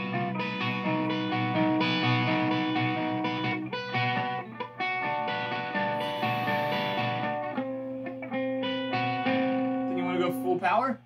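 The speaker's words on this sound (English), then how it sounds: "But you still got your nice distortion." Distorted electric guitar from an ESP LTD MH-1000 through a driven amp, sustained chords and notes ringing loud and steady over about eleven seconds, with brief pauses and a pick slide near the end.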